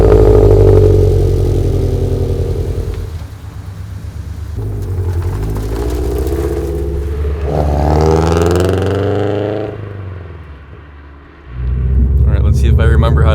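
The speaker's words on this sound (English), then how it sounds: "you're going to start it and you're going to let it run for 60 seconds. Just let it idle" A GT86/FR-S/BRZ engine idles after a new tune at a low, steady rumble for several seconds, with a brief rise in pitch partway through, heard up close.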